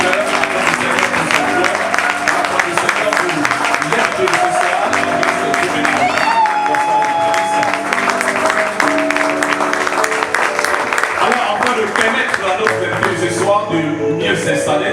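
A church congregation claps and cheers to welcome a guest preacher, a loud continuous wash of applause with voices and some musical tones mixed in, lasting the whole stretch.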